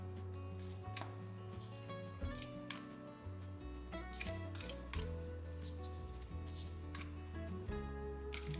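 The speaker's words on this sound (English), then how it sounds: "Let me do one good shuffle." A deck of cards is shuffled in quick riffling bursts and taps, fairly quiet, over soft background music with no talking.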